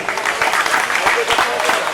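A colony audience applauds at a local celebration, a dense burst of clapping from many hands that is loud and close, mixed with a few voices.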